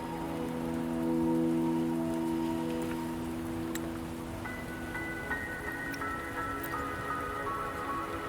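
Steady rain patters and drips across surfaces in the video game Wuthering Waves, a continuous wash that holds throughout over soft sustained musical tones with no talking.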